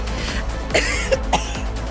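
A game character coughs in a story scene from Nikke, a few short rough bursts spread across under two seconds with a soft background music bed.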